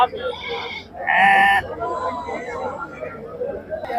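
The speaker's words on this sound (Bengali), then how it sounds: "ভেড়া দেখছেন আপনার দেশি ভেড়া এগুলো সবগুলো কিন্তু একদম দেশি পিওর ভেড়াগুলো" Native sheep at a rainy goat market bleat in a loud burst near the middle, with another call earlier, while people talk nearby.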